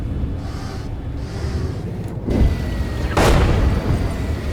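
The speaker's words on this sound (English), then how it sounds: "we have artillery landing back here" Artillery shells exploding in a tank combat video game with a Leopard A1A2, two loud rumbling booms a second apart over a constant low engine drone.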